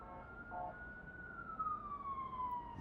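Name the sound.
police siren outside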